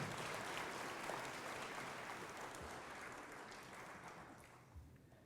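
Audience applause at the Hartnell College Hall of Fame ceremony honoring players and coaches, a sustained wash of clapping from a crowd that stays fairly even and slowly tapers off, heard alone without speech.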